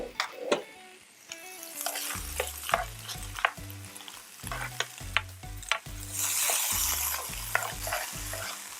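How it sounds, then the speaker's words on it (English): Frozen cauliflower cooks in sesame oil on a skillet. A steady sizzle is broken by repeated scraping and knocking stirs with a utensil, and a low tonal hum sits underneath. No voices are heard. "I'm going to let it kind of soak up some of the flavors from that sesame oil and then just cook on the skillet."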